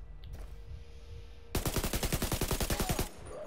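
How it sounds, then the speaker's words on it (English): Rapid, evenly spaced gunshots from a shotgun in the video game The Division 2, a loud burst of roughly a dozen blasts lasting about a second and a half after a quieter stretch of game ambience. "I'm gonna actually decide to use a shotgun."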